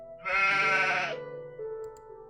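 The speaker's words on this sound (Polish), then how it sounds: "Znalazłem baranka." A sheep in the video game Gothic 2 gives one loud, quavering bleat lasting about a second, followed by quieter ambient game tones, with no speech over it.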